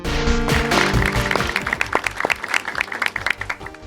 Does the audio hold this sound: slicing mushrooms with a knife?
no